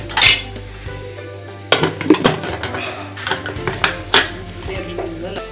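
A metal cooking pot is set down in a kitchen, giving sharp clanks and clinks of pots and utensils in irregular bursts, fairly close and loud, with no talk during the clatter.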